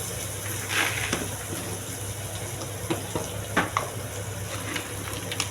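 Rock salt goes into a pan of sautéing ingredients for a turkey berry tamarind curry, giving a steady close-up sizzle broken by a few scattered spoon scrapes and clicks, with no talking.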